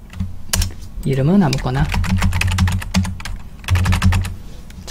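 Rapid clicking keystrokes on a computer keyboard as an ID and password are entered into a form, close and busy, with someone speaking briefly over the typing.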